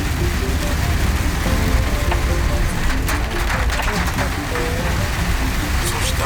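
Heavy rain drums steadily on a Honda N-VAN driving a narrow mountain road at night, a dense continuous hiss with low road rumble beneath and a voice talking over it.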